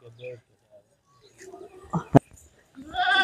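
Rajanpuri pink goats with their kids, several bleats heard close by, some short and one louder cry near the end, with someone talking in between.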